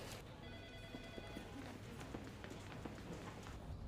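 A telephone rings in a law-firm office, a soft repeating electronic trill that is fairly faint under low room noise, heard briefly with no talk over it.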